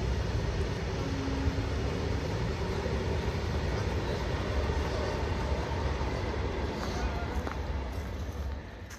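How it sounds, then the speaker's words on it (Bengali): A train rolls past near an old British-era colonial house, a loud, steady rumbling roar with clattering wheel noise that holds throughout and eases slightly at the end. "পাশ দিয়েই যাচ্ছে ট্রেন।"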